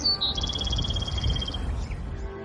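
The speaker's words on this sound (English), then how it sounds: "you can hear the birds chirping and the trees" Birds chirp outdoors on a spring morning among trees, a run of quick repeated high tweets in a short burst, fairly clear over a low rumbling background.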